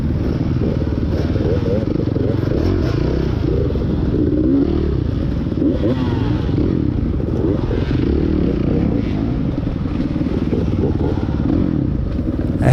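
A Suzuki dirt bike engine drones steadily at a cross-country race, a loud continuous buzzing roar with clattering from the ride and muffled voice underneath.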